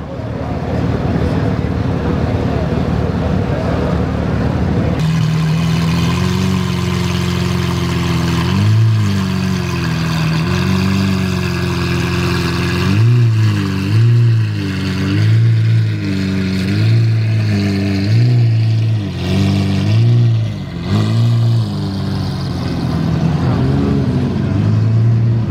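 A Porsche GT3 sits close by at a cars-and-coffee meet, idling roughly with a choppy, loping note, then blipping the throttle in repeated short revs that rise and fall, loud and continuous.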